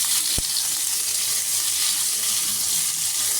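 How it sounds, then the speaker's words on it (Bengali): Potatoes fry lightly in oil in a wok with a continuous close, even sizzle and one brief clink of stirring near the start. "আলুগুলো একটু হালকা করে ভেজে নেবো।"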